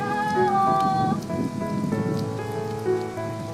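A sudden rain shower pours down outdoors over a riverside village in the Korean countryside, a steady broadband hiss of raindrops hitting surfaces throughout, with faint tonal background sounds layered above it.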